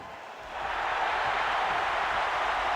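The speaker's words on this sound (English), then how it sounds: "Crowd getting fired up." A wrestling crowd at a live event cheers and applauds, a dense, steady roar that swells up after a brief quiet opening and holds loud to the end.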